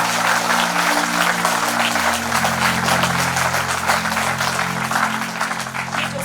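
Children applaud loudly at a seminar, a sustained dense patter of many hands clapping together that carries on steadily before easing slightly near the end, with a low hum beneath.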